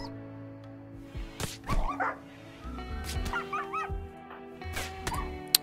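A dog in the colony-management game RimWorld barks and whimpers in short yelps and whines spread across the clip, with sharp game sound effects between them and no speech.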